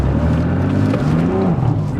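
A deep, rumbling engine from a modified 1000hp BMW M3 idles and burbles with a throaty, uneven tone, its pitch rising and falling slightly as it revs.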